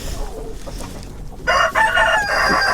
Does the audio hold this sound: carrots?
no